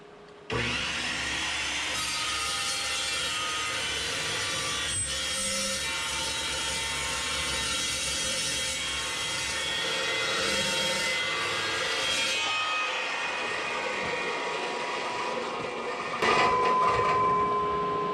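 A chop saw fitted with a carbide blade bites into thick metal in one long, loud, continuous grinding cut that starts abruptly and carries on for about seventeen seconds, with a harsher surge near the end.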